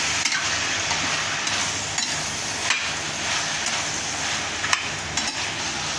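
Ridge gourd stir-fries in oil with turmeric, giving a constant close sizzle, broken by repeated clinks and scrapes of a spatula against the pan, with no talking.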